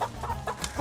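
Hens clucking nearby in a brief burst, several short soft calls in quick succession against faint background noise.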